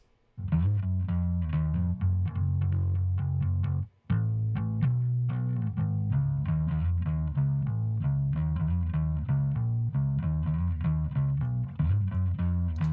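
A distorted, amplified bass guitar plays a steady driving riff with a thick, gritty tone, broken by one brief pause partway through.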